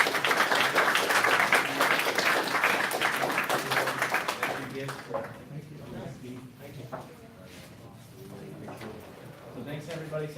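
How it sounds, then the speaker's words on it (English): An audience applauds at the end of an alumni panel session, dense clapping for about five seconds that then thins into scattered claps and murmuring voices. "can we give a nice warm round of applause?"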